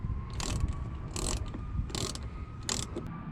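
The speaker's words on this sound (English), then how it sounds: "Now reinstall your screw." A hand ratchet drives the screw back into the front turn signal housing of a 2009–2018 Ram 1500, four short bursts of quick clicking spaced about a second apart, close up against a low background hum, without talk.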